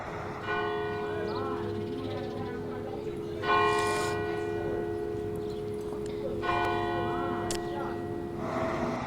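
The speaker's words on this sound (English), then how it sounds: "The church bell echoes through this Covington neighborhood where Rashann Hose used to visit his cousins" A church bell in a Covington neighborhood rings in repeated, resonant strikes whose long tones hang and overlap, with a steady low hum and faint background activity underneath.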